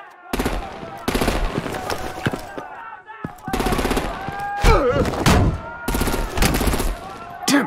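Bursts of heavy gunfire and machine-gun fire aimed at vehicles in the video game Batman: The Enemy Within, loud rapid volleys separated by short pauses, with some in-game dialogue underneath.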